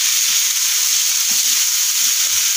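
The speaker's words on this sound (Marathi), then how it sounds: "टमॅटोही मी छान व्यवस्थित तळून घेतलेले आहे।" Tomatoes for chana masala fry in a pan with a dense, loud, steady sizzle that stays constant throughout, heard up close with faint low knocks underneath and no speech.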